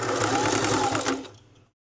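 A sewing machine stitches rope in a short, loud, close burst of fast, even whirring that slows and fades out over the last half second, with no talk over it.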